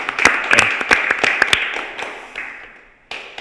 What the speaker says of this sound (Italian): facciamo un applauso ogni due perché siamo in troppi